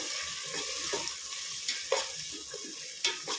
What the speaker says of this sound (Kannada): ರುಬ್ಕೊಂಡಿರೋ ಮಸಾಲೆ ಹಾಕ್ತೀನಿ ಫ್ರೆಂಡ್ಸ್ ಮಸಾಲೆ ಫ್ರೈ ಮಾಡ್ತೀನಿ